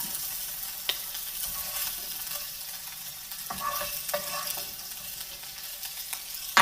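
Fish fries in a pan with a continuous, moderate sizzle, broken by occasional scraping and clinking as the pieces are stirred and moved about.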